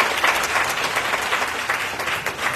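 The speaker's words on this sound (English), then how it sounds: "Let's give a round of applause to our candidates." Sustained applause from a crowd at a municipal election candidates forum, a dense, steady patter of clapping filling the room.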